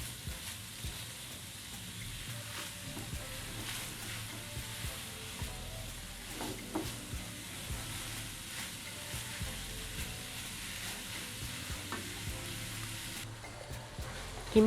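About 500 grams of minced meat (keema) fries in oil in a Pakistani-style keema pyaz dish, producing a steady, even sizzle that runs unbroken throughout at moderate level, with occasional faint stirring and no talk.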